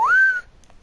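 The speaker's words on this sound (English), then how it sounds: "I'm whistling for a sheep in game" A single short whistle in a video game to call a sheep, a clear rising note that holds steady for a fraction of a second, close and loud, followed by faint clicks.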